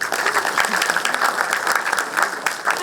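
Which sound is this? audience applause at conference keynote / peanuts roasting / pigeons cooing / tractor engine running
audience applause at conference keynote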